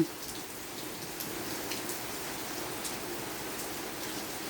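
Steady rain falling outdoors in rural Thailand, a continuous even hiss with scattered drop patter on surfaces, moderately close and alone without voices.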